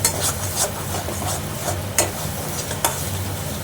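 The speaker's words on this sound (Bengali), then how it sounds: "আর শুকনো লঙ্কাও এর মধ্যে দিয়ে ভেজে দিচ্ছি।" Dried red chillies fry in a pan while being stirred into a jackfruit seed mash, a steady sizzle broken by scraping stirs and a few sharp knocks of the spoon.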